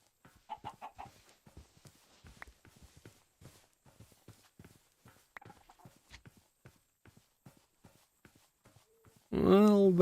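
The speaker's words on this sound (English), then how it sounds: "chickens, chickens, chickens." Chickens in the video game Minecraft cluck in short, soft, irregular bursts across the scene, with a louder, sustained burst of sound at the very end.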